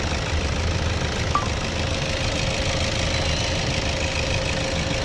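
A 2016 Toyota Innova's engine idling steadily in a dense, continuous mechanical rumble with a faint knocking texture, close and constant throughout, no talking.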